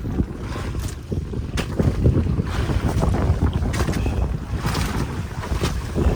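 Strong sea waves slap and rush against a small outrigger boat while heavy wind buffets the microphone, a loud, continuous, churning roar with repeated splashing impacts and no talk.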